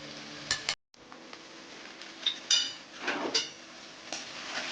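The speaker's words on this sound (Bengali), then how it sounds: "এই তেলেতে ভালো করে এটা ভেজে নেব। আলু আর গাজরটা ভাজতে ভাজতে পুরো নরম হয়ে যাবে।" Potato and carrot pieces frying in oil for a flattened-rice pulao, with a soft steady sizzle broken by several spatula scrapes and clinks against the pan, nearby and moderately quiet, no talking.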